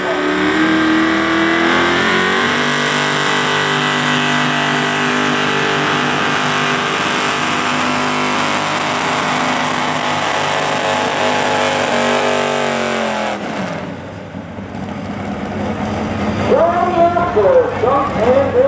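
A pulling tractor at a truck and tractor pull in Beloit, Ohio roars loud and steady under heavy load with a strong engine drone, then drops off sharply as the pass ends. Crowd and background noise follow.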